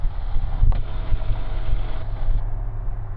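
A light aircraft engine roars at full throttle while accelerating on a cross-country diversion flight, a loud, steady low drone with constant wind rush over the microphone and no voices.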